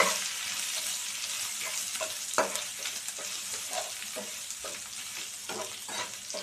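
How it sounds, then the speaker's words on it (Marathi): Crushed ginger and garlic sizzle in a nonstick pan as they are sautéed for a bitter gourd fry, a soft steady crackle with clinks and scrapes of stirring, no voices. "आपण जे आलं लसूण आता क्रश केलं होतं ते मी ह्याच्यामध्ये टाकणार आहे. आपण छान परतून घेणार आहोत."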